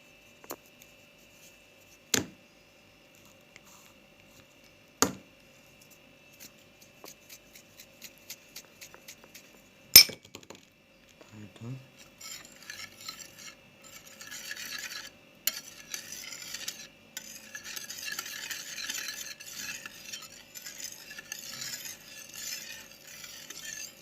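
A whisk beats egg, yogurt and flour in a bowl, opening with a few sharp taps against the rim and then turning into a rapid, steady scraping stir close by.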